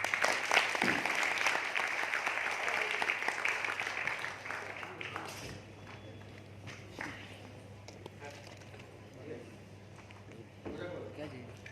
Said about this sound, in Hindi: ताली बजा लीजिए तब तक